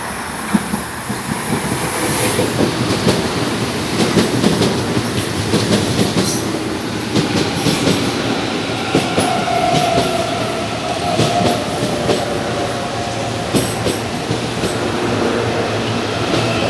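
A Series 7000 commuter train on Line 9 pulls into a station, with a loud, continuous rumble of wheels on rail, rhythmic clacks over joints and faint squealing as it rolls in close by.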